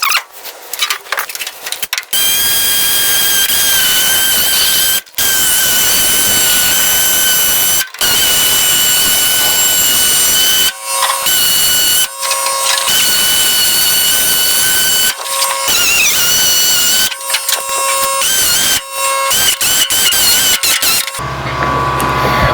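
Power tool cutting out the rusty cowl vents on a 1972 AMC Javelin, a loud, steady high-pitched whine that runs almost continuously, broken by short pauses and restarts, with no talking.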